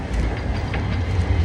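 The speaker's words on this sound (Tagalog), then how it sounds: "Ayan, nakita nyo may tren." Rumbling train passing nearby, a continuous heavy low roar with faint rail clatter, loud and steady throughout the short stretch.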